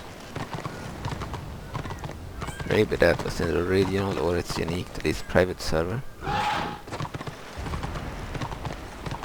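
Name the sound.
horse mount hooves clip-clopping in video game Warhammer Online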